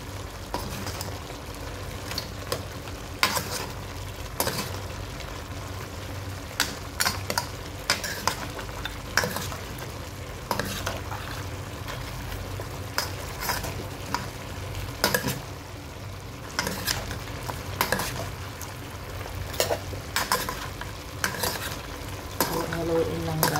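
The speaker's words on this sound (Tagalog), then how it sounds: "Haluin lang, guys, para mahalo ang gulay." A spoon scrapes and knocks repeatedly through beef adobo and vegetables in a cooking pan, irregular clacks over a continuous sizzle, close and clear with no talking.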